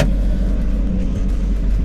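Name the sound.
Porsche car engine while driving on the road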